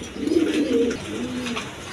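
Red pigeons, a pair of males, coo in low throaty rolls, two soft cooing phrases close by with no talk.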